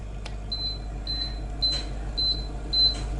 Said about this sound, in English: if your scooter is giving you a 5 beep code like this